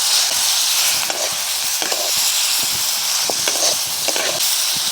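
Malabar spinach stalks fry in oil as they are stirred, a loud close sizzle with repeated scraping strokes of a spoon against the pan and no speech.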